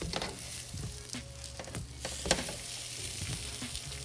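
French toast sizzling in a pan after being flipped, a steady close crackle with a few scraping and tapping touches from a utensil, no voices.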